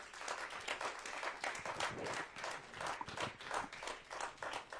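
A church congregation breaks into sustained clapping, dense and rhythmic with uneven pulses, filling the room without speech.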